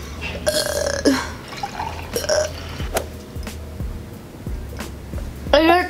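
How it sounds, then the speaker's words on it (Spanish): A woman burps after gulping down glasses of water, during a drinking challenge. The belches come as loud, close, croaky bursts with soft liquid sounds and breathing around them. "Siento que quiero eructar."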